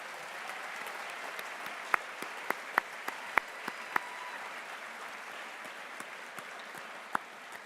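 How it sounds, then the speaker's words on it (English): Sparse, scattered clapping from a small audience at a Caltech service awards ceremony, isolated sharp claps standing out over a quiet, hushed room. "Let's give them a round of applause."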